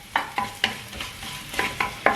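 Ingredients for lemon rice roasting in a pan, with about seven crisp spatula scrapes and stirs over a faint sizzle, close up and loud, with no talking.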